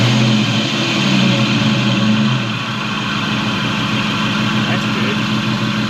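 A car engine runs loudly and steadily just after startup, a dense droning idle with a rough, noisy character and a slight drop in pitch partway through, close by, with someone speaking over it.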